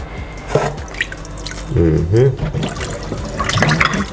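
Callaloo greens being washed in a basin of water, with splashing, dripping and sloshing as the leaves are moved about, while someone talks over it.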